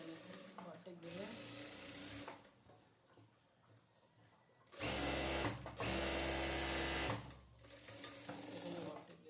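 A sewing machine stitches a bartack on palazzo pajamas in two loud, close-up runs of rapid whirring, with a voice talking before and after.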